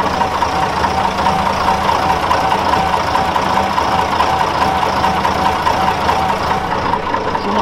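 The original engine of a Fiat 691N truck idles with a steady, heavy diesel knock, a close and even rumble running without pause.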